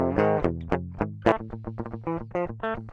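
A clean direct-input electric guitar in E standard plays a chugging metal riff of repeated picked notes and chords, clean and dry without distortion, with no voices.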